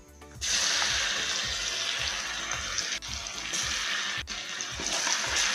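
Garlic sizzling in hot oil with cumin and dried red chillies, a loud, steady crackling fry that starts abruptly and continues close up, with brief dips in intensity.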